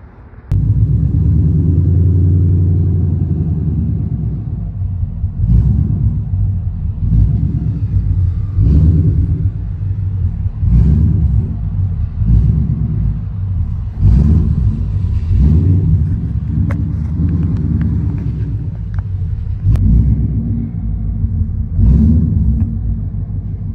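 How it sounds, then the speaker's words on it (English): A car engine rumbling steadily at close range for over twenty seconds, a loud, low continuous drone with slight surges and no talk. "that's the car."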